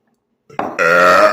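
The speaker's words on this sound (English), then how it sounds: "goddamn that burp" A single loud, close burp rises from a short onset into a long, sustained eructation lasting under a second, with nothing else around it.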